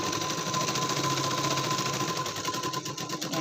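A sewing machine runs steadily, stitching a double seam on a katori blouse, with a loud continuous mechanical whir and rapid needle rhythm throughout and no voices.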